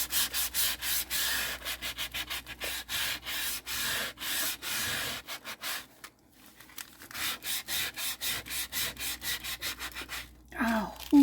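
An old book is sanded by hand with quick, rhythmic back-and-forth rubbing strokes, close and steady, pausing briefly midway before the strokes resume.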